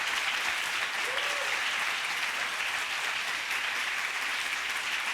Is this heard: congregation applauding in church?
yes